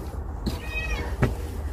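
A cat asking for food after a snowstorm gives a single clear meow at close range, rising and falling, with low background rumble and a brief knock afterward.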